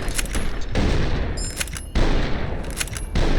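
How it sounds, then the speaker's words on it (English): Rapid bursts of gunfire from Fallout: New Vegas fill the scene, loud and close, with dense volleys broken by brief pauses and a sharp boom near the middle, no talking. "Oh, I didn't mean to shoot you. Oh, jeez, I shot him"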